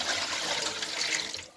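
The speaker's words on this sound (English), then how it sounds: "Then next I will add water." Water poured into a pot of goat meat for cooking soup, a short steady rushing splash at moderate level that tapers off at the end.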